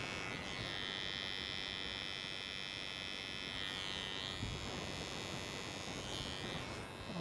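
Barber clippers buzz steadily and close while lining off sideburns, a continuous high electric whir with slight changes in pitch as the blade moves along the hairline.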